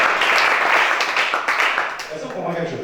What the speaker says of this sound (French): Acclamons chacun.